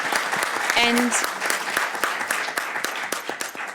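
Applause from an audience at a high-level Roma conference, a dense patter of clapping tapering off, with a voice briefly speaking over it.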